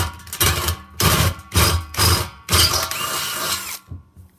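A hole punch working through a stainless steel keg, heard as four loud bursts of rough mechanical cranking and grinding, each about half a second long, with a final longer stretch before it stops.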